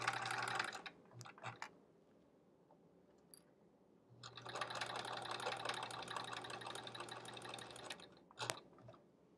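A domestic sewing machine stitching a quilt block runs in two stretches, a short whir and then a longer, steady mechanical hum with rapid needle ticking, close and fairly quiet with no talking.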